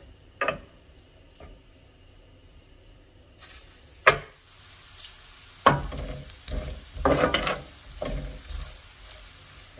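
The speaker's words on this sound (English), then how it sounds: "So I'm just going to cook this until the bacon is crispy and cooked." Bacon crisps in a pan with a soft, steady sizzle. Sharp scrapes and clicks from stirring and turning the strips come through now and then, close and fairly loud, with no talking.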